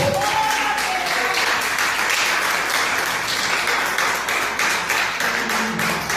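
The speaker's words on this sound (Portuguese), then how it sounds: "Aplauda ao Senhor." A church congregation applauds loudly and steadily, a dense wash of clapping that lasts the whole time without a break.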